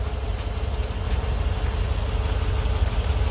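A 2012 car engine idles steadily with a constant low rumble and mechanical hum, close and fairly loud, with no talking over it.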